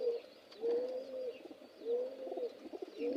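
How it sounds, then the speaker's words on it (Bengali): Several close, low pigeon coos repeat in a soft rolling rhythm and stand alone, with no other sound around them. "কবুতর ছুটে গেছে"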